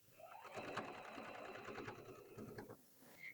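A sewing machine stitches a quilted sweatshirt sleeve in one quiet, rapid run of needle strokes lasting about three seconds before it slows and stops.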